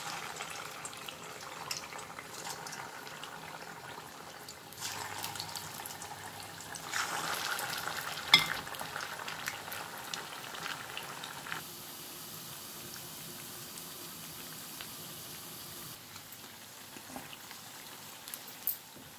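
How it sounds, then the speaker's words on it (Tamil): Soft, steady bubbling and crackling of vada deep frying in oil over medium flame, fairly quiet and continuous with occasional louder pops, no voices. "மீடியம் ஃப்ளேமில் வச்சு பொரிச்சு எடுத்துக்கோங்க."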